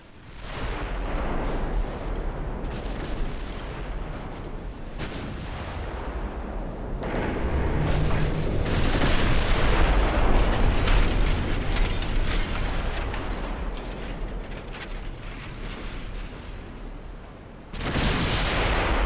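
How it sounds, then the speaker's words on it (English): Naval artillery salvos and shell explosions in the warship game Ultimate Admiral Dreadnoughts form a continuous rumbling barrage of heavy booms and overlapping blasts, loud and sustained throughout, with a fresh blast at the very end. "They're still trying to fire on the South Dakota."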